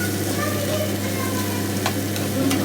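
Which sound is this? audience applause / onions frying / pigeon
onions frying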